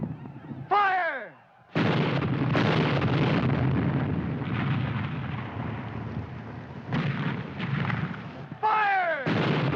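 Heavy volleys of gunfire and artillery-like blasts from an old Hollywood Civil War film, loud and continuous with dense bursts, a brief lull, then renewed firing; short whistling, falling tones cut through near the start and end.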